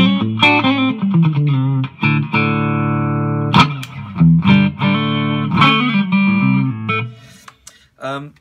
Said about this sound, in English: if we just put a splash of reverb on,